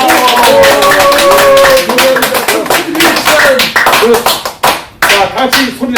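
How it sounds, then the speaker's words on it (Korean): An audience in a Korean English-language lecture claps loudly and continuously, dense rapid hand claps filling the room while a voice with tonal speech runs over the top. "박수를 세게 치는 것은 건강에도 좋고 전체적으로 큰 박수 주세요"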